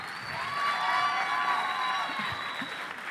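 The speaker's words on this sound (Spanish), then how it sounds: "¡Fuerte aplauso para Diego Scott!" A stand-up comedy audience applauds and cheers for Diego Scott, many hands clapping in a steady roar with whoops and a few shouted voices mixed in, held evenly through the whole stretch.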